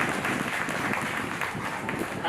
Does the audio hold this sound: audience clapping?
yes